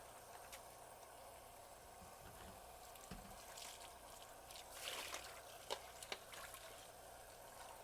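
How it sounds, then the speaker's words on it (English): Running tap water splashing steadily into a sink while rinsing shrimp, with a few brief louder splashes and clinks toward the end. "And then now we're rinsing with the water."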